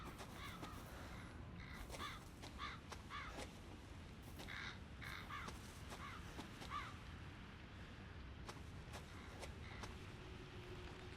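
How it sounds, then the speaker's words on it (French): Crows cawing in the Resident Evil 7 video game, a scattering of harsh repeated caws at intervals over faint, quiet ambience. "c'est des oiseaux"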